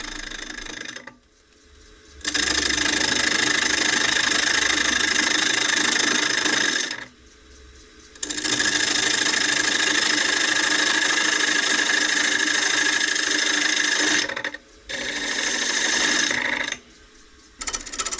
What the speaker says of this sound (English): you can probably tell by the sound the gouge is making, the way it's skipping